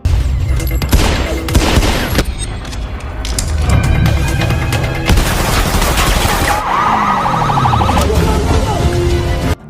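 Emergency alarm going off inside a gangster's base during a hostage standoff, a wailing siren-like tone mixed with booming gunfire bursts and chaotic loud crashes.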